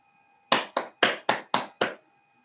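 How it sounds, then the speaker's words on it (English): Six crisp hand claps in a quick, slightly uneven run mark applause for a speaker, close and clear over a faint steady electronic tone. "Or even better, with a real hand clap."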